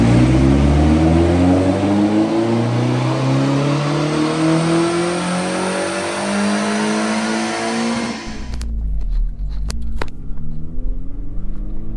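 A stock Toyota MR2 Roadster's engine revs hard on a dyno, pitch climbing through the gears in long loud sweeps before dropping off sharply, leaving a low idle and a few faint clicks.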